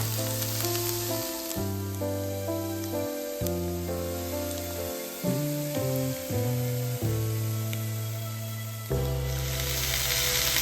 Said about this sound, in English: Turmeric, chili powder, combine well. Let the spices cooked.